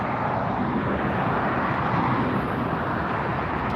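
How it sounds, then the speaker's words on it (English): A Lufthansa Boeing 787 Dreamliner jet at LAX gives a steady, broad engine roar that holds at an even loudness throughout, with no talk over it. "Lufthansa Dreamliner"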